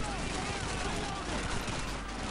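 Gunfire in the World War II shooter game Call of Duty 2, a dense rattle of shots over constant noisy battle sound, fairly quiet throughout.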